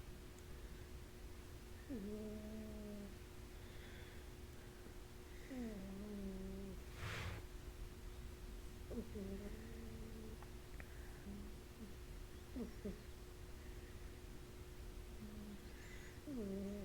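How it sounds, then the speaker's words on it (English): A cat snores quietly on a person's lap, with soft, slow, rhythmic breaths repeating every three to four seconds over a steady low hum in a quiet room. "my cat is snoring in my lap"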